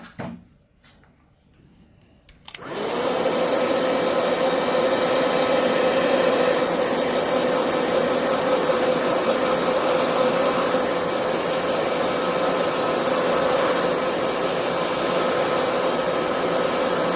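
A hair dryer blows steadily and loudly over a freshly painted Chinese ink-and-color bird-and-flower painting, starting after a short quiet moment and then running as a continuous close whoosh with a constant motor tone.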